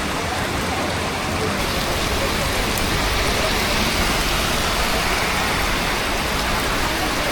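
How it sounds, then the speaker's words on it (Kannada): Heavy rain pours down in a steady, dense hiss while riding a BMW 310 GS motorcycle over a flyover, loud and continuous with faint low engine rumble beneath. "ಹೆವಿ ಮಳೆ"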